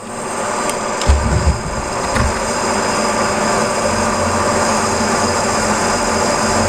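A lathe takes a finishing boring pass on a bearing seat in a roller for a grinder, giving a loud, steady machine drone with a noisy hum close by and a few brief knocks early on.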